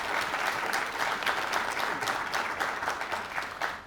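Steady applause from an audience at the 2019 Michener annual student awards ceremony, dense clapping sustained at even loudness throughout with no pauses.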